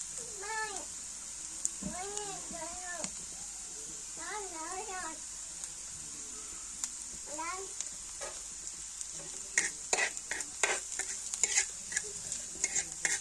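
Green chillies fry and get stirred in a pan for an egg fry, with a constant sizzle and a burst of scraping stirs near the end. Several cat meows sound earlier over the frying.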